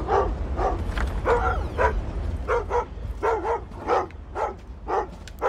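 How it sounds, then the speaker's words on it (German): A dog barks in the stealth video game Thief (2014), a loud, close series of repeated gruff barks and yips in an uneven rhythm over a rumbling low background. "Ja, du Hund, du."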